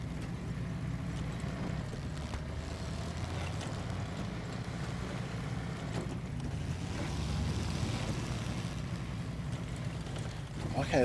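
A weak truck engine in the Snowrunner off-road driving game drones as a low, steady rumble under a wind-like hiss, with a slight swell partway through and a voice talking over it.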